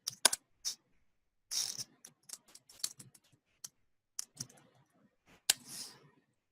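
Admin login credentials being typed on a computer keyboard: quiet, irregular key clicks in short bursts with gaps between them, close by and alone.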